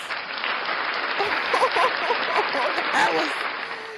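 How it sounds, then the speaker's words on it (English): Broad applause with some cheering from a crowd, steady and fairly loud throughout, with voices mixed into the clapping. "now I need an applause"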